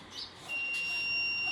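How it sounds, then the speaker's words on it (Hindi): Electronic beeping from a homemade vehicle proximity warning sensor that sounds when another vehicle comes close, a steady high-pitched tone continuing over faint background noise. "कोई आगे गाड़ी आएगी तो ये बीप की आवाज आएगी।"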